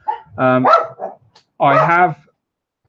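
A pet dog in a room gives two loud, drawn-out barks a second apart, close by, with a faint voice nearby.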